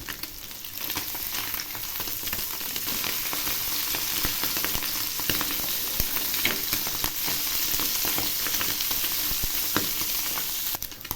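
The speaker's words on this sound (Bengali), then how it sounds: "এক পাশ ভাজা হয়ে গেছে, এখন আমি উল্টে দিচ্ছি।" Small mourola fish sizzle steadily in hot oil after being flipped, a dense, continuous crackle up close with no voices over it.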